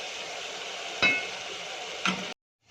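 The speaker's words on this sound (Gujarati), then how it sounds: "લસણ આપણું સારી રીતે વઘારમાં ફ્રાય થઈ જાય ત્યાં સુધી આપણે એને શેકાવા દઈશું" Garlic frying in hot oil for a Gujarati tempering, a steady close sizzle with two sharp clinks of a stirring spoon before it cuts off.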